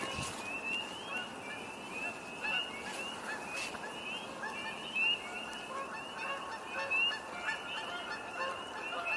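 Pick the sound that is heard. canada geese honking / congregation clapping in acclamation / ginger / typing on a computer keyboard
canada geese honking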